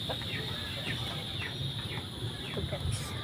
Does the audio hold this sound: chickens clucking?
yes